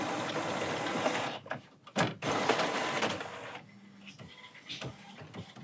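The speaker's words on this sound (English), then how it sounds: "Go ahead and do a nozzle check." An Epson WF-7710 printer runs a nozzle check, whirring and clicking up close as the print head moves back and forth, with brief pauses between passes.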